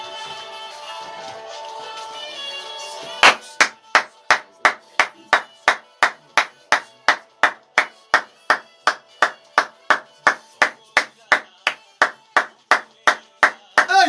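Congregation clapping hands in unison during a night prayer service, starting after a few seconds of murmured voices and then holding a steady, loud, evenly spaced beat of about two claps per second.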